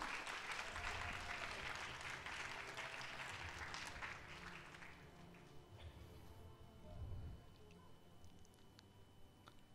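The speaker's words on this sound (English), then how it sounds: "Give a big round of applause for Miss Lee." An audience at an Atomy promotion ceremony in Atlanta applauds, brisk clapping strongest at first, then thinning and fading into quieter scattered claps and room noise.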